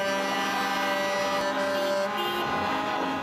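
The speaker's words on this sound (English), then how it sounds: "3 lanes of trucks and vehicles making their support heard" Trucks and vehicles in a protest convoy fill three lanes in Ottawa, a dense, continuous wall of engine drone and tonal horn blasts that stays loud throughout without a break.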